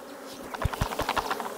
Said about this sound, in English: What I'm gonna do now is shake some of these bees out of these old supers in on top.